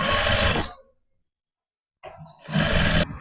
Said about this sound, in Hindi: एक पैर का मार्जिन रखते हुए आपको ये सिलाई लगानी है।